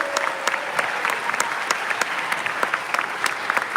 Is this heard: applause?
yes